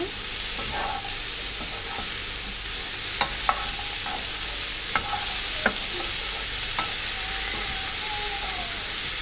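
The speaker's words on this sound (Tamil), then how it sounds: "ரொம்ப வதக்கணும்னு இல்லைங்க, ஓரளவு அந்த மசாலா எல்லாமே நல்லா கலக்கிற மாதிரி நம்ம வதக்கி விட்டுக்கலாம்" Sambar masala sautéing in a pan gives a steady close sizzle with occasional scraping clicks of a spoon stirring, heard alone without talk.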